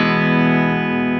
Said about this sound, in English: Now I'm gonna switch it to my 5F1.